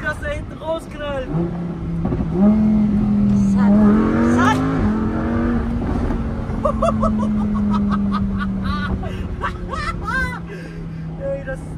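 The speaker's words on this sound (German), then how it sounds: "Wie das da hinten rausknallt." A Lamborghini sports car revs hard, its engine note climbing and holding loud and steady while the exhaust crackles and pops, with people talking and laughing inside the car over the noise.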